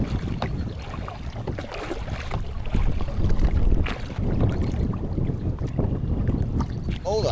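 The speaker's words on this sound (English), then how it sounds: "I'm gonna get majority of this hard paddling done now." A kayak is paddled hard on open water in heavy wind, with steady buffeting wind noise over the microphone, low water wash and occasional paddle splashes throughout.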